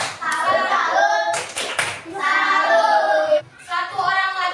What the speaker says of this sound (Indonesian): Kita beri tepuk salut untuk ketiga orang yang sudah maju.